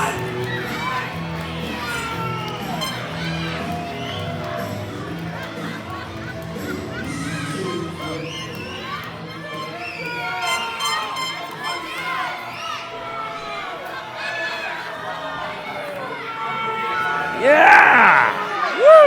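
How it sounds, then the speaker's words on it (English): An indie wrestling show crowd jeering a performer: a mass of voices chanting and shouting throughout, with children yelling and a louder burst of screams near the end, over a noisy arena background. "Crowd telling Chris Hicks that he sucks."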